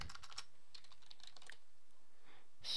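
Quick bursts of keystrokes on a computer keyboard, typing an emulator name into a search box, clicking in short irregular clusters with pauses between, close and fairly quiet, no talking.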